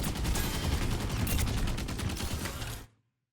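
Rapid, dense video game gunfire fired continuously from high ground, a loud unbroken burst of shots lasting nearly three seconds before cutting off abruptly.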